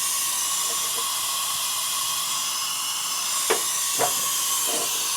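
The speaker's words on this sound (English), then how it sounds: "Exhaust valve." A steady broadband hiss of air leaking past an engine cylinder's exhaust valve during a leakdown test runs throughout, with a couple of brief sharper puffs near the end.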